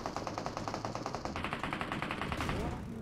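Automatic gunfire rattles in a BGMI battle royale match, in rapid, evenly spaced bursts that sound moderately distant and fairly faint, continuing without pause across the moment.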